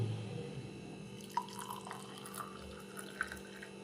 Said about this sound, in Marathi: बॉइल्ड वॉटर ॲड केलं